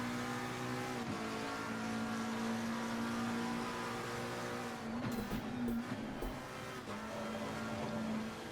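GT3 race car engine in a sim racing game, a loud, sustained high-revving drone with gear shifts and brief rumbles over curbs, heard close and alone without talk.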